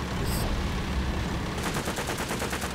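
A War Thunder tank battle in which a noisy, rumbling stretch gives way to rapid, evenly spaced bursts of machine gun fire, loud and close, filling the last second and a half.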